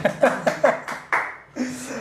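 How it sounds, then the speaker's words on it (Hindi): A few distinct claps from one person, quick and fairly close, ring out during a taekwondo interview, followed by voices talking and a light chuckle. "यहाँ पे मार्गरेटा ताली बजा रही है चीज पे"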